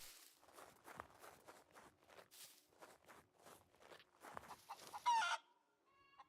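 A chicken in a crafted-items survival video game clucks in short repeated bursts alongside rhythmic in-game footsteps, fairly quiet and close, ending with a sharper cackle.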